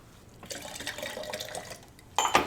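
Tonic water is poured into a cocktail glass, a short close fizzing trickle of liquid, then a brief sharper splash and clink at the end, with no talking.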